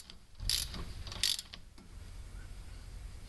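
A ratchet wrench tightens a bolt during front strut replacement on a VW A3, with a few close, quiet clicking pulls in short bursts amid faint background noise.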